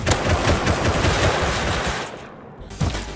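An AK assault rifle fires in the survival game Rust: loud, close automatic bursts for about two seconds, a short pause, then another sharp shot.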